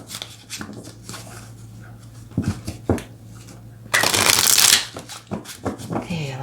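Tarot cards are shuffled with a few soft riffles and taps, then a louder burst of shuffling, while a person talks softly around it.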